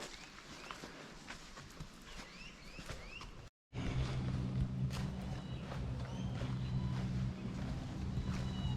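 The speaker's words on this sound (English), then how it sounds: "I can hear someone out enjoying some time in their boat." A steady low engine drone from a boat hums across open water, distant but constant, with birdsong chirping above it.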